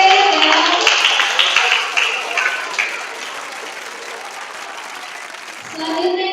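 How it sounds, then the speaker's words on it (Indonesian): An audience applauds a contestant at a school quiz competition for eighth-grade students, the clapping loud and dense at first, then thinning to a softer patter before swelling again briefly at the end. "Tepuk tangan buat Bapak T ya."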